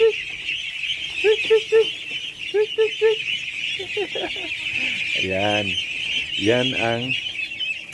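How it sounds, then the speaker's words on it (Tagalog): A flock of one-month-old ducklings quacking up close in repeated short bursts and honking calls, under a steady high insect-like hiss, with a person speaking briefly between the calls. "ating mga itik na 1 month old at nakakatuwa sila tingnan"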